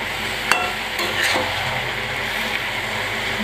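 Bottle gourd stirred in a frying pan over a high gas flame with turmeric, giving a steady close sizzle broken by a sharp scrape of the spoon and a few lighter knocks against the pan.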